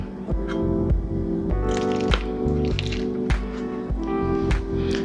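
A utensil cuts into creamy baked macaroni and cheese, giving a run of soft wet squishes and sharp taps against the dish, close and fairly loud, with no talking.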